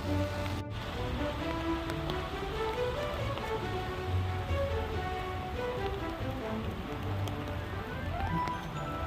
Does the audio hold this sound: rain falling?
yes